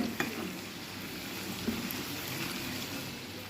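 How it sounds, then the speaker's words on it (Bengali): Marinated chicken fries lightly in oil in a wok, giving a steady soft sizzle with a couple of faint stirring clinks, close and continuous with no talk. "এবার প্রথমে হালকা করে একটু ভেজে নিতে হবে।"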